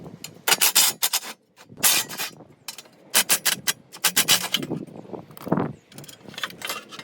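Tools loosen and pull bolts on a Can-Am X3 exhaust, giving close, irregular bursts of metallic ratcheting, scraping and clinking, broken by short pauses, with no talk.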